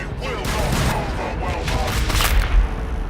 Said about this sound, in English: Pop these grenades up there.